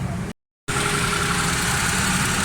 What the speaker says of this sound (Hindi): तो माशाल्लाह गाड़ी स्टार्ट है, बिल्कुल ठीक है, स्मूथ है, ज़बरदस्त साउंड है